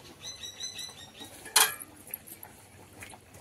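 A metal lid clanks down onto a cooking pot of fish and potato curry, one sharp clatter at close range amid faint kitchen clinks.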